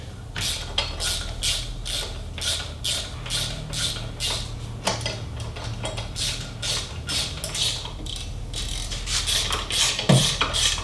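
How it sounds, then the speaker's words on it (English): A ratchet running in exhaust bolts on a Harley-Davidson Milwaukee-Eight motorcycle, giving a long, steady series of loud, close rhythmic clicks that continues without talk. "And run these bolts in until they are snug."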